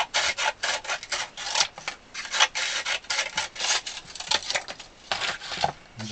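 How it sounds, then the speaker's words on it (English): Sheets of 180 grit sandpaper are cut into strips for sanding an accordion reed block, giving a steady run of close, rasping scrapes and rubs in quick uneven bursts, with no talking. "I'm going to cut myself some strips of this 180 grit"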